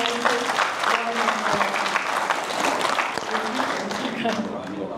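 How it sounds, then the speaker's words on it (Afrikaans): A church congregation claps for the Lord, a full, sustained round of hand clapping filling the room, with voices mixed in beneath it. "ons kan net vir die Here hande klap gee"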